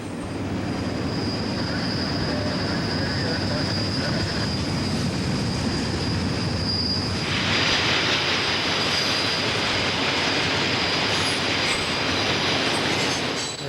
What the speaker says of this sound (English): There are the hopper cars hauling the anthracite.